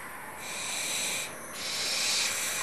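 Five barn owl chicks, about eight weeks old, call from a nest in Wales with a loud, breathy, rasping hiss that swells and fades in a couple of long drawn-out bursts, close and alone.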